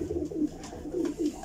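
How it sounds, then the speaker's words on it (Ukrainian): Ukrainian pigeons cooing at a breeder's loft, soft low rolling coos repeating in a loose rhythm, close and moderately loud with faint rustling behind. "Не, але то есть украинские, типовые украинские голуби."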